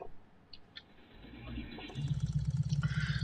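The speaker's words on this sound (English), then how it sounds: "That is actually the exhaust. It is quite loud. It's got a twin big bore on it" A Fiat 126P with a twin big-bore exhaust cranks and starts in American Truck Simulator, a few faint clicks giving way to a loud, throbbing rumble that swells and holds steady.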